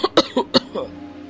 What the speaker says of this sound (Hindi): वो अपनी खांसी पर काबू नहीं कर पाता और खांसने लग जाता है।